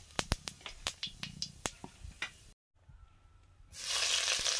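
Whole cumin seeds crackle and pop sharply as they hit hot mustard oil. A brief quiet follows, then a loud, steady sizzle swells up close.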